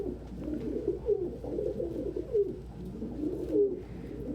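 A pigeon coos softly in a series of low, throaty, repeated calls at an even rhythm, close and alone in a quiet room.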